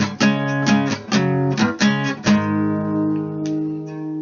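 Guitar playing a riff: several sharp, strummed power chords in a choppy rhythm, then a sustained chord ringing out and slowly fading, loud and close.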